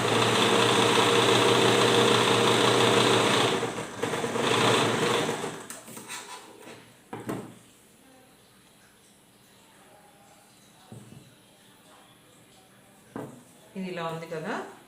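A sewing machine stitches a frock bodice in a fast, loud, steady whirring run of about four seconds, then stops and gives a short burst. Handling noises follow, and then a voice talks.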